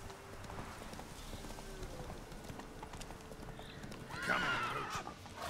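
A horse galloping and neighing in The Witcher 3: steady clip-clop of hooves throughout at moderate volume, then a loud whinny near the end, with faint game ambience beneath.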